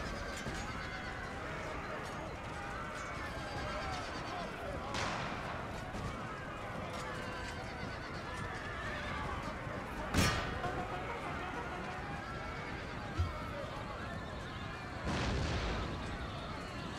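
In the video game Empire: Total War, horses whinny and hooves clatter amid a busy battle din, with occasional sharp booms of cannon or gunfire cutting through the constant noise.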